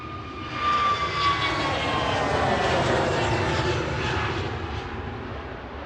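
Iberia Airbus A321neo, registration EC-NGP, passing at Manchester Airport, a fairly quiet jet roar that holds steady for about six seconds with a faint whine on top.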